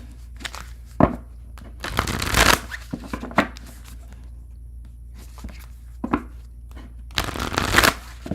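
Tarot cards are shuffled by hand in several brisk riffling bursts with short pauses and lighter taps between them, close and clear in a quiet room.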